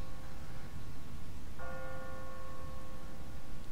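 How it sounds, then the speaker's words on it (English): An automatic church bell on a timer in the video game The Walking Dead, set in Savannah, strikes once midway and rings on with a sustained, layered tone over a steady background hum, with no one speaking. "What kind of church bell goes off at 20 past the hour?"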